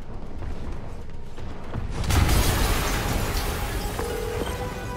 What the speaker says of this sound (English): Yuri, an explosion just...